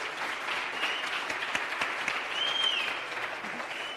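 An audience at a youth empowerment event applauds a speaker, with sustained clapping from many hands at moderate volume and a faint whistle or cheer partway through.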